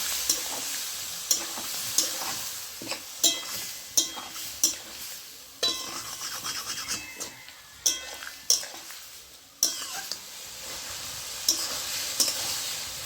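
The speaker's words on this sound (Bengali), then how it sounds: "আলু, বেগুন ও শামুক ভালোভাবে আমি কষিয়ে নিয়েছি" Potato, eggplant and snails sauté in a pan with a steady sizzle, while a spatula scrapes and clinks against the metal in repeated close strokes through the frying.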